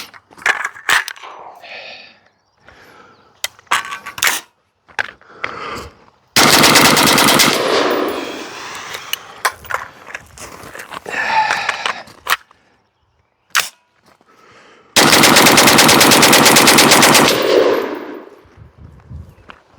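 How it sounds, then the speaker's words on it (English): Two loud, rapid bursts of semi-automatic gunfire from a .22LR AR-15 upper, each a dense run of sharp cracks lasting a couple of seconds, separated by scattered single shots and clanks. "we're gonna blast 10 rounds out of this and then 20, and we actually are going to go really fast this time"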